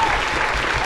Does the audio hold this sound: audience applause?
yes